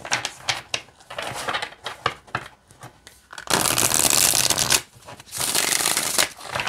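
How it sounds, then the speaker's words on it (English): Tarot cards being riffled and shuffled up close, crisp fluttering bursts with a couple of longer, louder riffles toward the end. "let's see how they shuffle."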